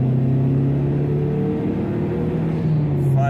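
A Mazdaspeed3 engine hums and drones steadily from inside the cabin while driving, a low sustained tone rising slightly in pitch with road rumble underneath.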